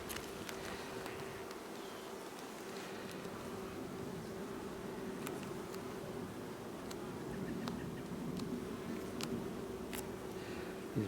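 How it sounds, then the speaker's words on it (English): Honey bees buzz in a dense, steady hum throughout a hive inspection, with a few faint clicks and ticks scattered over the continuous drone. "These bees would get out of my way."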